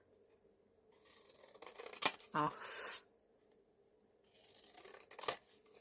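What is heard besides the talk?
scissors cutting a slither of paper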